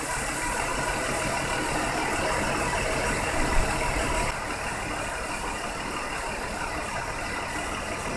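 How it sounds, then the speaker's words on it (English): A warmed-up 2001 Ford Taurus with a DOHC engine idles at a steady, even hum with a constant hiss, with no voices. "we've let the car run for about 15 minutes."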